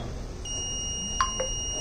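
An IoT driver drowsiness detection system sounds its alarm with a steady high electronic beep tone, punctuated by a couple of short chirps, close and moderately loud with no talking.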